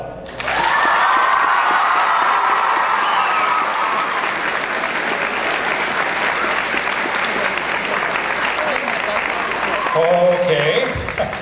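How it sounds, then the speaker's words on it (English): Sustained audience applause fills an anime convention masquerade hall, loud and steady for about ten seconds with some cheering over it, tapering slightly near the end. "please applaud."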